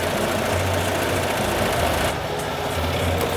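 An embroidery machine stitches 3D puff foam onto a hat, running at a steady fast mechanical rhythm with a loud, continuous whirring drone and no voices.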